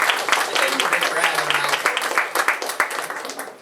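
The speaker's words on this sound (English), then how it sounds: "can we give a big round of applause for my twin brother, first ever poetry show?" Audience applause at a poetry show for the poet's twin brother, a dense patter of clapping from a crowd that swells and tapers over several seconds.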